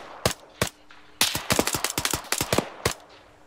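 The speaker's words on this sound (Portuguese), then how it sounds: "Disparo, de segunda andar da casa." Arma 3 gunfire: a few single shots, then a rapid burst of automatic fire followed by one last shot, loud and close, with no talk.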